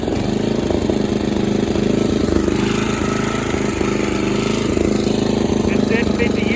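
A 1968 Snapper Comet riding mower, a barn find, idles up close in a steady, even drone with a faint throb that holds unchanged throughout.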